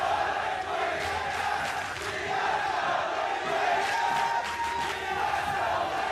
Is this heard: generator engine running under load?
no